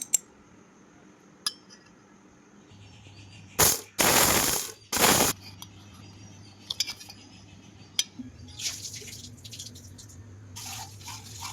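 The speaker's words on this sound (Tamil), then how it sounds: "அதை ஆறுனதுக்கப்புறம் மிக்ஸி ஜாரில் சும்மா ஒரு ஆன் ஆஃப் லைட்டாக உடஞ்சா போதும்" A mixer grinder whirs in several short bursts, about three quick pulses with pauses between, coarsely breaking roasted black urad lentils, surrounded by light clinks and rattles of the jar.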